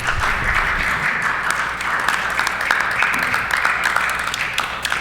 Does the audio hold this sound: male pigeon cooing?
no